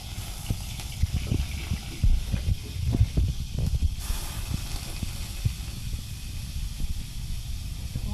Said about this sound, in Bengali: এবার তেল দিয়ে এটা ভেজে নেব